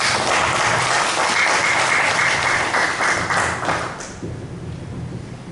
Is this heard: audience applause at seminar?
yes